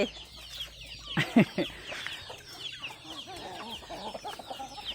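Several chickens cluck and squawk close by in a busy, overlapping chorus, with a louder burst of agitated clucking partway through.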